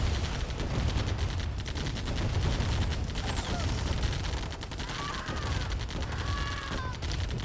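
Turret gunfire in Command & Conquer Tiberian Dawn, a steady stream of rapid shots that continues throughout, with a few brief tonal game effects layered over it.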